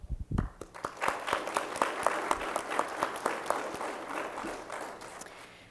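Audience applause for graduating law enforcement officers at a training graduation ceremony, a sustained round of many people clapping that starts after a brief lead-in and gradually softens, fairly faint and distant.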